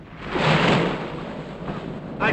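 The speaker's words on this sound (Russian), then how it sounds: "Один только гуль может позволить себе дерзость ворваться в порт Окленд при восьмибальном шторме." Thunder from a storm at sea in an adventure film, a loud sustained rumbling roll with a wind-like wash, alone without speech.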